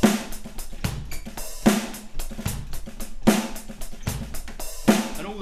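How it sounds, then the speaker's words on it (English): A steady drum groove played on BFD2 software drums, with sharp, regular snare hits and quiet ghost notes filling the gaps between them, close and clear, with no talking. "these are really, really quiet notes on the snare drum, played in all the gaps"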